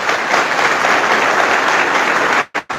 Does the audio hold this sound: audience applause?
yes